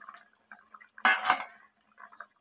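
A spoon stirs fried eggs into a cauliflower curry in a metal pot. One short, bright clank and scrape of utensil on pot stands out, with faint, soft stirring and clinking before and after.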